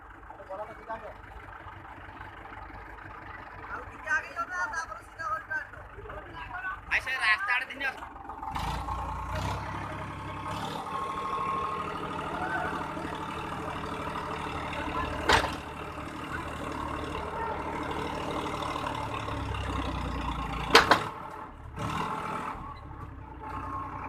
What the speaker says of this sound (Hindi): ट्रैक्टर फंस गया है तो अब निकल रहे हैं